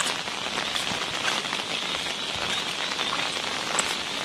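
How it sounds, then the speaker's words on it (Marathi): Heavy rain falls steadily in a rural area beside roads and flooded fields, a constant dense hiss with scattered drop impacts and no voices. "आमच्या इकडे भरपूर पाऊस आहे"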